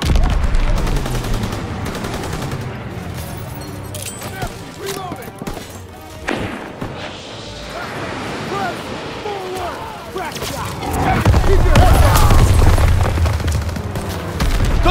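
Sustained gunfire in the WWII shooter Call of Duty WWII: rapid rifle and machine-gun bursts crackle near and far with heavy thumps, swelling into a dense barrage near the end, with shouted voices heard through the battle.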